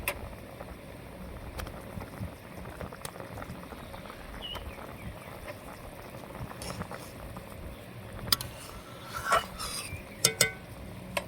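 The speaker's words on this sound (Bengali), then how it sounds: "তরকারিতে আমার বলক এসেছে সুন্দরভাবে" Vegetable and fish curry simmering in a covered pot on a clay stove, a soft steady bubbling patter throughout with a few sharper clinks and pops near the end; no talking.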